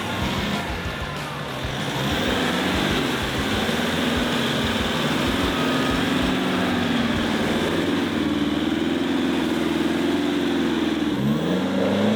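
A 4WD car's engine revs hard and steadily while driving through deep mud on a muddy track, the loud rising and falling drone continuing for the whole stretch with no voices.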